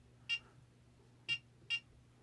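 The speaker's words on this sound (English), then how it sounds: "will make a little beeping sound." Three short electronic button beeps from a Multicomp Pro MP710086 linear power supply, the first alone and the last two closer together, clear against a quiet background hum.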